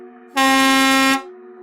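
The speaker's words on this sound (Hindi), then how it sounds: "तभी उन्हें पीछे से एक ट्रक की तेज हॉर्न सुनाई देती है" One loud, close blast of a truck air horn, a sustained brassy tone lasting under a second over a low engine hum.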